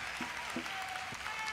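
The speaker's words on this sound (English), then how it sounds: "Keep the round of applause going for Lori Barcliffe Baptista, PhD." Audience applause at a convocation ceremony, a steady wash of clapping from a seated crowd that carries on through the short stretch without a break.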